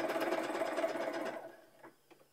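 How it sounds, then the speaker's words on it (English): A sewing machine runs steadily in a home sewing session, a dense whirring stitch sound that stops after about a second and a half, followed by a couple of faint clicks. "Let me know if the sewing machine's like sound is too crazy."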